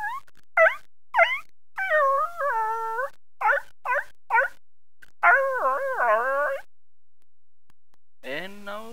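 A person imitates a dog with a run of short, sharp yelping barks, followed by longer drawn-out howling and whining calls and a final low bark, all loud and close against silence.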